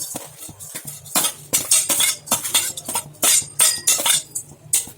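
A spoon scrapes and clinks rhythmically against a pan while whole pepper, cumin and other spices dry-roast, repeated bursts of metallic stirring about twice a second, close and without talk.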